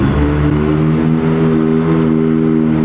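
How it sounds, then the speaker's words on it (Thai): Kawasaki ZX25R from 2021 with an aftermarket slip-on exhaust, its four-cylinder engine droning at a steady, loud, near rev with strong harmonic layers and no talking. "มาฟังเสียงท่อกันมา"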